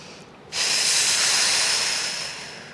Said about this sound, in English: Keep breathing through it, even if you run out of breath.